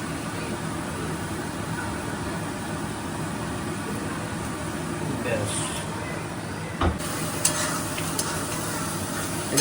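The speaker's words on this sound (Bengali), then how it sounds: "এটা এখন একটু ভালো করে কষে নেবো" Goat meat with chilli paste is stir-fried in a pan, giving a continuous sizzle with the scrape and clatter of a spatula stirring. A sharp knock comes near the end, and a voice speaks over the cooking.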